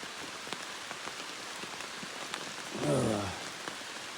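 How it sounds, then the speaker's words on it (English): Rain falls steadily in a mountain area during a motorcycle trip, a soft continuous patter with scattered louder drops, and a brief rising engine or mechanical whine swells and fades in the middle. "the rain will slack off again, but it's not looking too good"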